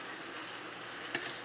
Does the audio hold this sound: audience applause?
no